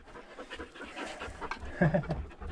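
Quiet, rapid panting from a dog digging inside an abandoned mine storage room in Utah, with faint scuffing of earth close by.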